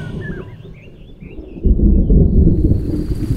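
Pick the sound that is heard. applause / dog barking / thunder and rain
thunder and rain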